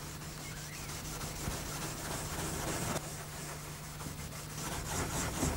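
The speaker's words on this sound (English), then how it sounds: "now I'm going to scuff it back with a 3/0 steel wool to remove any roughness from the surface" A shellac-finished furniture surface is scuffed with fine 3/0 steel wool, producing a continuous soft scratchy rubbing with a faint steady hum underneath, close and unbroken.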